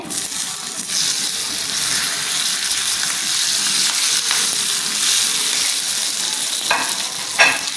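Green chillies and a pinch of asafoetida crackle and sizzle steadily in hot oil in a pan, a continuous close frying hiss with brief stirring scrapes near the end, no talking.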